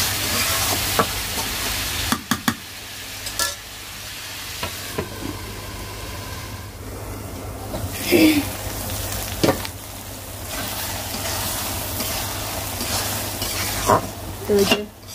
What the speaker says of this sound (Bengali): এই যে মাছটা তরকারির সাথে এভাবে কষালে আর কি আরেকটু কষানো হবে